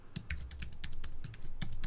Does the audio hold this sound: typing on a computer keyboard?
yes